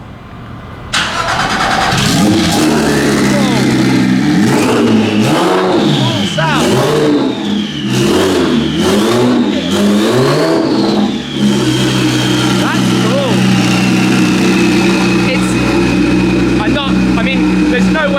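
A custom turbocharged sports car engine cranks and fires up loudly nearby, then revs repeatedly in sharp rising bursts before settling into a steady idle, with people talking over it.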